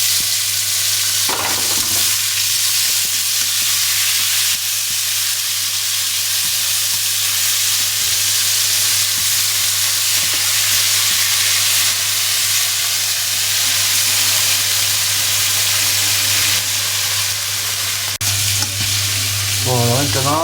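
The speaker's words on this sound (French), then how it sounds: "il fait revenir les tomates" Tomatoes sautéing in a pan, a steady loud sizzle and hiss of frying with occasional stirring, close up and continuous.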